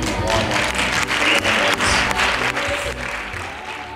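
Applause from an audience greeting keynote speaker Rennie Davis, loud, close clapping with a few sharp individual claps standing out, fading a little toward the end, with some voices underneath.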